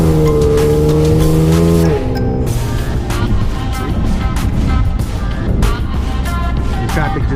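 A Ford Explorer driven in manual mode accelerates hard from the cabin, its engine note rising loudly and steadily after a short steady tone, with road and tire noise mixed in.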